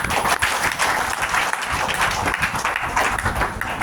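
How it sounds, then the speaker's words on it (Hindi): Loud, brisk applause from a gathered audience welcoming a newcomer at a health talk, dense overlapping clapping sustained for a few seconds with slight dips. "तो चलिए सारे लोग जोर ताली नए व्यक्ति के लिए।"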